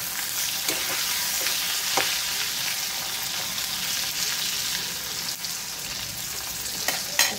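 Brinjal pieces fry in a pan for a ladyfinger, brinjal and potato sabzi, a constant close sizzle with occasional scraping of a spoon and light knocks against the pan.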